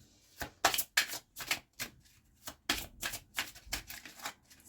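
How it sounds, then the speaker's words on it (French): Tarot cards shuffled by hand in a string of quick riffling bursts, close and crisp, with short pauses between, and no talking. "Nous allons tirer une deuxième carte quand même dessus."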